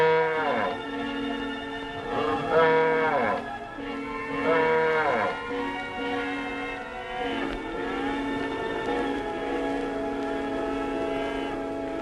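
Cattle moo repeatedly, several long drawn-out lowing calls overlapping one another, fairly close and loud over a steady background.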